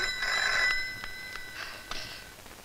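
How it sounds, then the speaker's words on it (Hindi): A telephone rings in a dim room in a 1989 Bollywood film scene, repeated bright electronic trills sounding close and clear against quiet background. "शायद उन्हीं लोगों का फोन है।"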